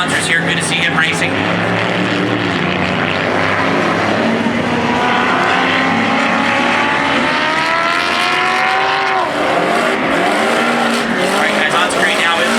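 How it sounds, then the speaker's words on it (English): Off-road race car in a heat race crawls slowly toward the start-finish line, its engine droning steadily with a pitch that climbs and falls, with a commentator talking over it. "The number 210 of Greg Adler making his way slowly to the start-finish line"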